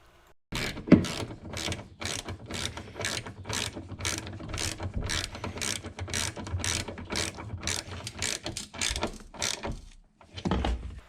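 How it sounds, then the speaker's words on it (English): A wrench ratchets steadily while tightening a left front strut bolt on a 2007 Chevy Equinox: about twenty loud, close, evenly spaced clicking strokes, a short pause, then a final burst. "I'm going to tighten the bolt as per instructions"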